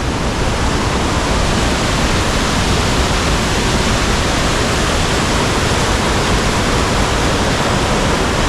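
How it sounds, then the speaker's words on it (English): A waterfall along Old Falls River Road in Rocky Mountain National Park roars in a steady, dense rush of falling water, loud and unbroken throughout. "come and see this absolutely stunning waterfall"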